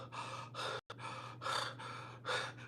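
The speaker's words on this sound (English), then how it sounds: "I can't help it. I'm a heavy breather." A man breathes heavily close to the mic, a few slow, loud rasping inhales and exhales in an uneven rhythm, with one short silent break and no talk.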